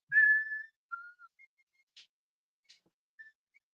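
A person whistles a song melody: a long sustained note, then short scattered notes with pauses between them, clear and fairly close in a quiet room.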